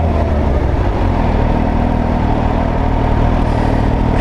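A Kawasaki H2 SX motorcycle being ridden, its engine droning loud and steady under heavy wind rush, with no clear gear changes.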